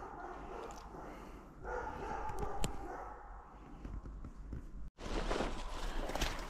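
A dog barks during an outdoor walk to pick porcini mushrooms. A few barks and yips come from nearby, mixed with footsteps and rustling.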